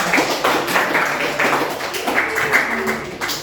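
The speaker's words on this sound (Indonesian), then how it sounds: "Tepuk tangan untuk semuanya." A classroom of students clapping together in response to their teacher, a dense, steady patter of many hands that stays fairly loud and close for the whole stretch, with no talking over it.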